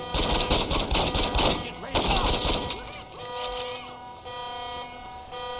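Loud close shotgun blasts with heavy booming bursts from the Saints Row 2 video game, fired in quick clusters over the first two seconds and then fading into ringing game tones and softer effects.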